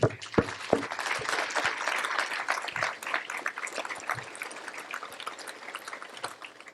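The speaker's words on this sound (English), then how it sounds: "So I want to give a round of applause." Audience applause at an awards ceremony, a dense, steady clapping from a full room that carries on without a break for the whole stretch, with a few sharper claps standing out near the start.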